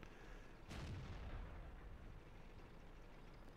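One heavy boom of artillery fire from the tank game World of Tanks sounds in the distance. A low, rumbling blast rolls out and fades into a steady hum of background noise, with no speech.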